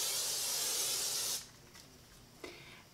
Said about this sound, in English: Spray it with hairspray, just the top.